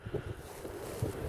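Strong gusting wind on the Yenisei river in winter, around minus 7 degrees with gusts of 12 to 15 metres per second, roars steadily against the microphone in low rumbling buffets, with no voices over it.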